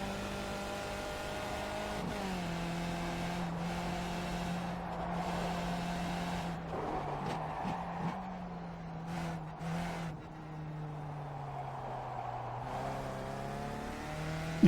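A Skip Barber race car in iRacing at Mosport, its engine note rising and dropping through gear changes and braking, with a brief tire squeal and downshift blips, steady and alone.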